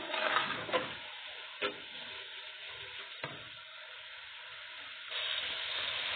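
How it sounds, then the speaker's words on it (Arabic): Tomatoes sautéing in a pan for a fish tagine, with a steady close sizzle and crackle broken by a few sharp stirring clicks and scrapes, the frying growing louder near the end. "انا هسيب الطماطم اهي تاخد تشويحتين تدبل شويه"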